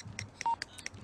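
Phone keypad tones beep in quick succession as a call is dialed in The Sims 3, a string of short, clear electronic touch-tone blips with a longer held tone in the middle.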